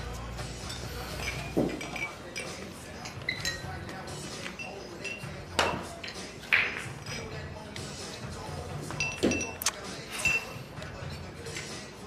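Glasses clink together in a toast, several short bright chinks scattered across a quiet indoor scene, with voices heard in the background between them.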